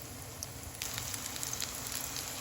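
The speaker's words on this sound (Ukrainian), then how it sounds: "Отак будуть вони смажитися на невеличкому вогні." Chicken gizzard cutlets frying gently in a pan over low heat give a steady soft sizzle with scattered light crackles and pops, close and continuous, with no talking.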